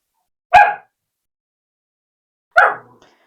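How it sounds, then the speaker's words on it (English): A small dog barks twice at another dog over a bone, two sharp separate yips about two seconds apart, close and loud against silence. "My little dog, Beauty, is trying to get a bone from one of the other dogs. And that's why she's barking at him."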